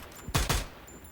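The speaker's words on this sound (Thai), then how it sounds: "พี่จะนั่งยิงเจาะหินให้ ระเบิดไปเลย" Two loud gunshots crack in quick succession, close up, as weapons fire into rocks in the video game Free Fire, with no voices over them.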